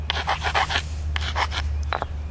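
A hammerstone grinding back the edge of a stone preform for a dogleg Thebes point, short rasping scrapes in a few quick strokes, close and clear, then a brief pause and two more scrapes.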